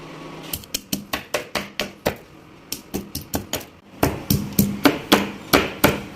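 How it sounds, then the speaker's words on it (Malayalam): Garlic cloves, 3-4 of them, pounded in a kitchen for a soya chunks fry, giving a steady run of sharp, close knocks in two bursts with a short pause between, the later strikes louder. "നമുക്കൊരു 3-4 അല്ലി വെളുത്തുള്ളി നന്നായിട്ട് ചതച്ചെടുക്കാം."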